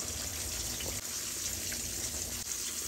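Water pours into a bowl of ground ginger paste, cumin powder, chili powder and salt to make a spice paste for Bengali fish curry, a steady close gushing trickle with no voices.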